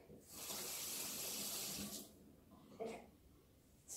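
A spoon is rinsed under a running kitchen tap, giving a steady close rush of water for about two seconds, then quieter splashes and clinks as the flow breaks up, with no talking.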